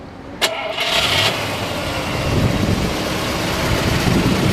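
A classic car with its original engine cranks briefly, catches, and settles into a loud, steady idle nearby.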